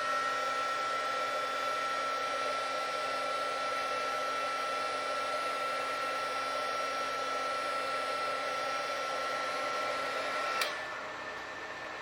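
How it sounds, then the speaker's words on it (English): A mini heat gun blows hot air at the heatsink sensor of a power inverter, a steady whooshing blower hum with a constant motor whine that runs unbroken for about ten seconds before cutting off with a click. "I'm going to take this mini heat gun and I'm going to heat up that sensor"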